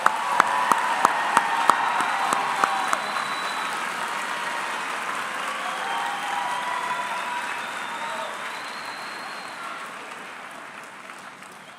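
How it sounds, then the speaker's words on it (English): An audience at a sheriff's basic academy graduation gives a sustained round of applause, with a few sharp close claps at the start before the crowd's clapping slowly fades. "please give all of our graduates another round of applause"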